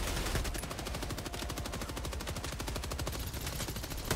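Dense, sustained automatic gunfire from weapons in the video game Helldivers 2, a loud rapid stream of shots running unbroken for the whole stretch with no talk over it.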